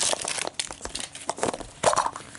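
A knife cuts into the plastic packaging of a Majorette toy car, a 2010 Camaro, with repeated crinkling, tearing and crunching bursts in an irregular rhythm, close up and with no talking.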